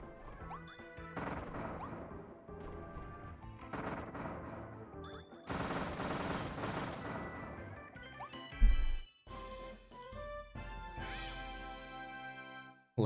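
Explosion in the video game Kirby and the Forgotten Land, a sharp crash that bursts out amid busy game music and chiming effects, loud and sudden, followed by a thinner ringing tail.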